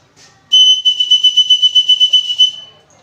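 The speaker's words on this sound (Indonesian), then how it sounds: "pada saat hari ini kakak menggunakan peluit" A whistle blown for Morse code practice: one loud, shrill blast that is broken into a quick series of pulses, close and clear over near silence.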